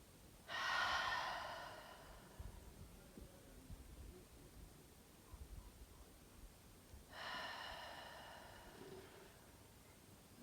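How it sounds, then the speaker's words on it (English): Two long, breathy exhales, one at the start and one later, are taken as cleansing breaths in an outdoor yoga session, with quiet ambient stillness between them. "Take as many cleansing breaths as you can to completely let go of your breath control"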